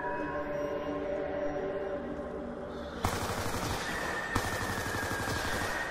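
Rapid gunfire in a zombies video game, a dense rattling burst that kicks in midway over a steady game soundscape, with a couple of sharp louder shots standing out.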